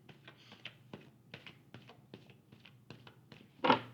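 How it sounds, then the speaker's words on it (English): Oracle cards shuffled by hand in a string of soft, irregular taps and riffles, close and quiet, ending in one louder slap as the deck is squared. "Two more shuffles, and then I'll cut and pull."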